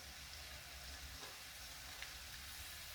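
Onions and garlic fry in a pan for noodles with cabbage and eggs, a steady, even sizzle and crackle held close and continuous throughout, with no voices.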